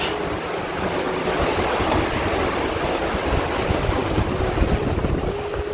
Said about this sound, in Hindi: हवा काफ़ी तेज़ चल रही है।